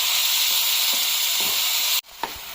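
Tomatoes frying in a pan while being stirred, with a loud, constant sizzle for about two seconds that cuts off abruptly, followed by a few quieter clinks and scrapes in a hushed background.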